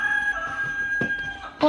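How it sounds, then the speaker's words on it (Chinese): A short rooster crow, recorded and played from a children's farm sound book, comes out clear and close with no talking over it. "是公鸡在叫"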